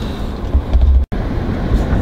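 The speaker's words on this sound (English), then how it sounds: "Engine starts up." A 2017 Smart ForFour engine turns over and catches, a low rumbling churn that cuts out briefly, then settles into a steady idle.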